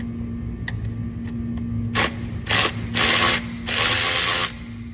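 Ratchet working a single E10 bolt on the oil filler neck of a Mercedes Sprinter V6 diesel (OM642), several short bursts of rapid clicking close by over a low steady hum.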